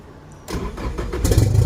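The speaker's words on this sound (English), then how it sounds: "so now we can start the engine using this" A car engine cranks over and fires up in a workshop setting, the starter whir giving way to a loud, steady running engine that grows stronger toward the end, close by with no talking.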